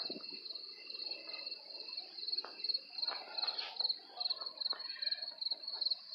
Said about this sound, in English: So I'm out here with the crickets